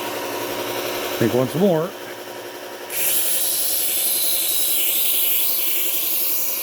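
A Victorinox knife blade drawn across a worn P120 sanding belt on a running grinder, a steady abrasive hiss and hum; a short voice speaks, then the grinding grows brighter and louder.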